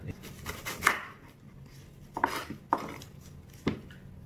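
A knife cuts through an onion on a board while making brown stock, producing a few sparse, sharp chopping knocks separated by quiet pauses.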